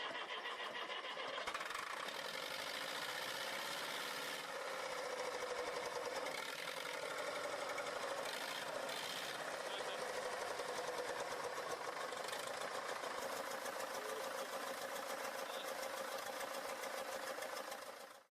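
A 1953 Fordson Major diesel tractor, its 4-cylinder 3.6-liter 40-horsepower engine cold-started with starting fluid after years abandoned outdoors, runs loud and steady with a rattling, knocking chug from start to finish.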